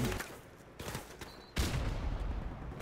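Pistol fire in Call of Duty: Modern Warfare Remastered: a few sharp, loud game gunshots go off in quick succession, the last one heaviest, over continuous battle noise with no talking.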